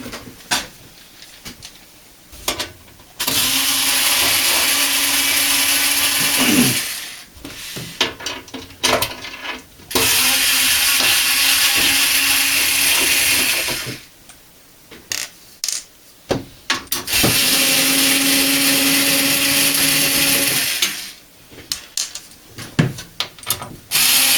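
A power screwdriver backing screws out of a Speco DVR unit, several loud whirring bursts of a few seconds each, separated by quieter gaps with clicks and handling of parts, heard close up.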